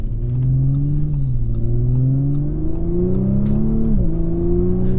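A 2024 Audi S4 engine pulls smoothly up to speed under moderate throttle, a loud, steady rising drone heard from inside the car with a brief dip partway through, no talking.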